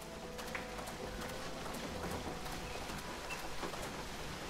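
River water runs in the video game Venetica, a soft, continuous rushing hiss with scattered light taps like footsteps on top, moderately quiet and without speech.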